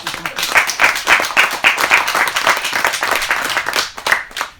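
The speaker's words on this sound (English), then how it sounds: "Clap it up for Barack Obama, man." A comedy club crowd claps and applauds for Barack Obama, loud, close clapping with rhythmic surges and some cheering voices mixed in, fading near the end.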